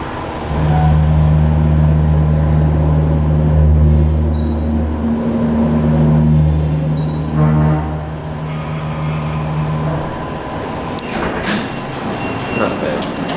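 A Mitsubishi hydraulic elevator motor at a Safeway in Los Altos runs with a deep, steady hum for about ten seconds, then stops, leaving quieter room noise and a few clicks and rattles.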